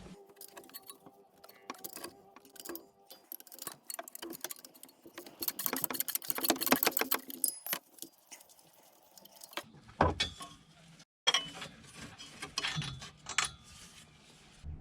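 A ratchet with an E12 Torx socket undoes the rubber driveshaft coupling bolts on a BMW E87 130i: bursts of rapid close clicking, a fast buzzing run of ratcheting midway, then looser clunks and taps.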